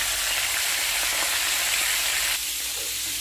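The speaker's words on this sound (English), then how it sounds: "After frying the fish, we have to drain it using a paper towel for the excess oil to be taken out." Mackerel fish fries in hot oil with a dense, continuous sizzle and crackle close to the microphone, steady throughout and dropping slightly in intensity near the end, with no talking.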